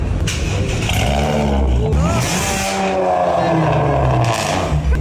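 With its catalytic converter removed and the exhaust pipe modified, a motorcycle revs loudly and up close, its engine note rising and falling in a raw, rasping growl across several throttle blips.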